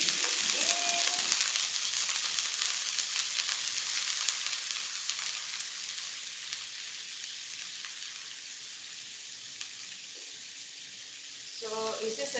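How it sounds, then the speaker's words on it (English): Food sautéing in a hot pan gives a steady, close sizzle that fades slightly over time, with a brief clatter at the start and near the end. "it's just a matter of sauteing it until it gets nice and dark"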